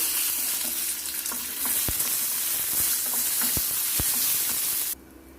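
Green and red chilies with coriander and fenugreek seeds fry for tomato chutney, a loud steady oil sizzle with a few sharp spoon knocks against the pan, cutting off abruptly near the end.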